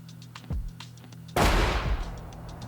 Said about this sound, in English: we need to use our audio manager to add in an audio clip that is an explosion-oriented clip